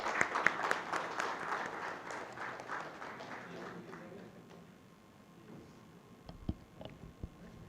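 A room of attendees at an AI event at Novotel Goa gives a round of applause for a presenter, brisk clapping that fades away over about four seconds, followed by quiet with a few scattered knocks and handling noises.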